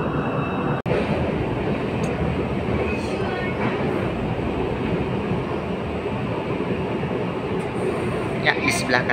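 A rumbling ride inside a Kelana Jaya Line light rail train in Kuala Lumpur, steady wheel and motor noise with a brief click near the start and faint squeals later.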